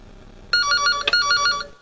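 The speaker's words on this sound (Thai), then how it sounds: "ขออนุญาตรับโทรศัพท์ก่อน" A telephone bell rings nearby in a steady trilling burst that starts abruptly, is briefly interrupted by a click, and continues before cutting off.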